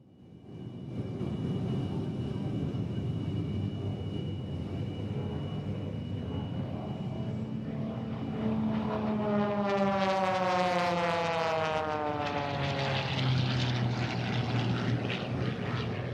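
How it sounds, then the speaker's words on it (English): A Lycoming Thunderbolt IO-580-powered aerobatic propeller airplane with a Hartzell propeller, performing at an air show: a steady, loud engine drone with a rising, shifting whine as it dives toward show center, heard alone. "that Hartzell propeller, powered with a Lycoming Thunderbolt IO580 engine, accelerates his airplane to over 250 miles per hour"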